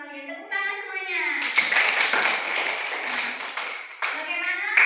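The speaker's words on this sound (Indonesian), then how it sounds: "Tepuk tangan semuanya." Students in a classroom clap together after a teacher's spoken prompt, a burst of brisk, dense applause that runs a few seconds, thins, then flares again, with children's voices mixed in.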